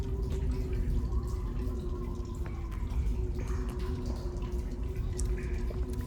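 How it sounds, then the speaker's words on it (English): Water drips and trickles as the character drinks to regenerate in Metal Gear Solid 3, with soft scattered drops over a low steady hum. "Just drinking water, regenerating."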